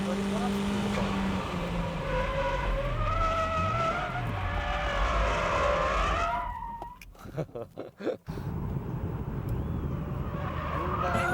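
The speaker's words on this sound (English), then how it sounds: "That's how you keep control and drift with understeer." A car drifts on a track, pushing wide with understeer, its engine roaring loudly and its tyres skidding steadily before the noise breaks into a few sharp bursts and then settles back into a steady engine drone.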